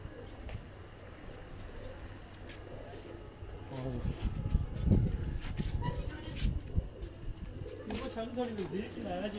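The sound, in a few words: migratory pigeons cooing on rooftop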